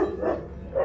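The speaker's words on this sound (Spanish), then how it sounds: "Han visto algo y van a ladrar todos, como una manada." A dog gives short barks and yips, quick and close, as part of a pack.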